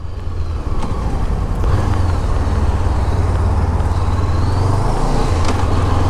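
A Honda CB500X motorcycle engine pulls hard and steadily under acceleration through the gears, a loud continuous low rumble close by with faint shifts in pitch and no talking.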